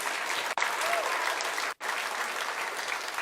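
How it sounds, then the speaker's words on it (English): Steady applause from a crowd at a high school awards ceremony, dense and continuous, with two brief gaps where the clapping drops out for an instant. "Give this group a round of applause, please."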